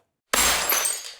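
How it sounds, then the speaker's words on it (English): A glass jar shattering in one sudden, loud crash after silence, with bright tinkling shards ringing out and fading over about a second. "a glass jar could be heard shattering in the background"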